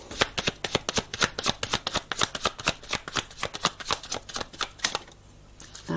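Playing cards being shuffled up close, a rapid run of crisp riffling flutters for about five seconds before stopping, with no one talking.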